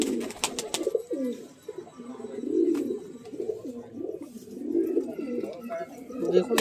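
Tippler pigeons cooing at a pigeon-racing tournament, several overlapping throaty warbling coos that repeat in soft rolling bursts, with a few sharp clicks and faint background voices.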